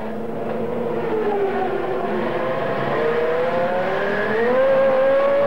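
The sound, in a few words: Williams-Renault Formula One race car engine at speed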